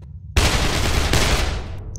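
Dragon breath weapon firing in the People Playground video game: a sudden loud burst after a brief silence, then a dense, continuous roaring blast that holds steady for over a second and a half before tapering off.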